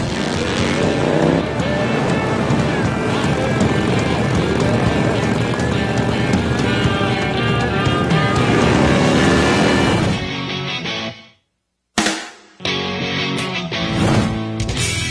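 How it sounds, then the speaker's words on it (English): A pack of loud Harley-Davidson Dyna motorcycles riding together, a dense continuous engine roar with revving that drops out briefly near the end before resuming, no talking. "It's very powerful when you see all the bikes. They're loud and they're fast"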